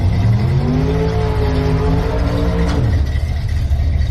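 Old Ford Falcon engines rumbling and revving nearby at a nostalgia drag racing meet at Willowbank Raceway, Australia, a steady loud drone with rising and falling engine tones.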